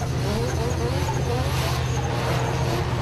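A drift car sliding through a run at a Pure Drift competition in 2023, its engine roaring loudly and steadily with tire noise, while a commentator talks excitedly over it.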